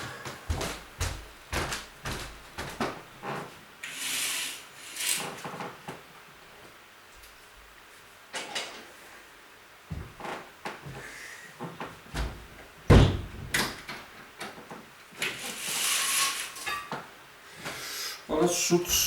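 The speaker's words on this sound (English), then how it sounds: "But let's close up the door." A wooden door is shut during a talk-filled indoor session, with sharp slams and knocks scattered among speech and other handling noises.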